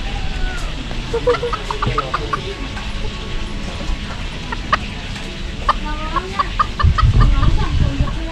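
Tame chickens at a countryside campsite in Suan Phueng, Thailand, cluck in short, repeated bursts close by, with a low rumble rising near the end.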